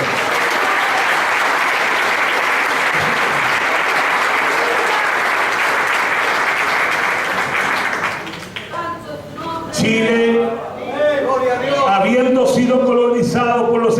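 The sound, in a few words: audience applause at a church event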